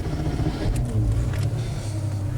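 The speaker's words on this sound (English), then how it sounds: "Now that is an unmistakable Porsche sound." Air-cooled rear-engined 1989 Porsche 911 Club Sport idling after starting on a test track, a steady low engine hum with the whir of the cooling fan, close and continuous.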